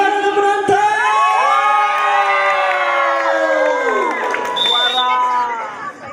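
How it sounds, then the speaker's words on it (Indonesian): Spectators at a neighborhood men's volleyball match in a housing complex cheer and whoop loudly in a sustained, rising group shout that slowly fades, with high children's voices mixed in. "Penonton mana suara penonton?"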